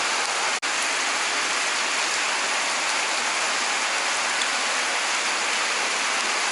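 Steady rain pours down at night during a late bike ride home, a dense, even hiss that fills the whole stretch with one brief dropout near the start.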